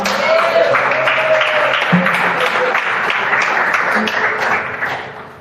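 Sustained congregational applause in a church service fills the space, steady and fairly loud throughout, with a sung or held tone and scattered voices mixed underneath before the clapping fades at the end.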